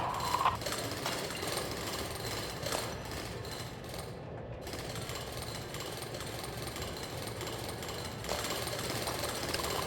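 Drilling machine in the video game Drill Core, a steady loud mechanical rattle that grinds on without a break for the whole stretch.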